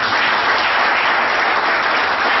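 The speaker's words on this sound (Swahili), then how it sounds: "Piga makofi, piga makofi." A church audience gives loud, dense applause, sustained evenly throughout.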